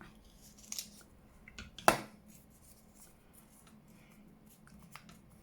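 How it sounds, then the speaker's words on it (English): Scissors cut paper while making a junk journal at a craft table: a faint snip early on, then one sharper, louder crisp cut, surrounded by quiet room noise. "Right, let's get my scissors."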